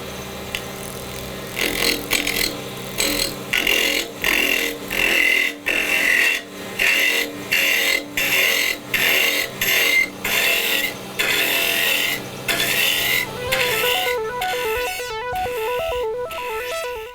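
A woodturning lathe spins while a bowl gouge hollows a wooden egg, producing repeated bursts of loud, scraping cutting noise in a steady on-off rhythm over the machine's hum, ending in a warbling tone.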